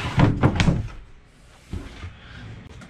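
Big drawers under the dinette of a 2020 Grey Wolf 29TE bunkhouse travel trailer are pushed and pulled, giving a few quick wooden thunks and rattles up close, then a single softer knock after a quiet pause.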